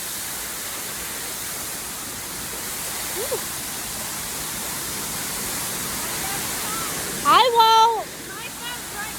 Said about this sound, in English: We're going to go farther away from the waterfall and continue upstream.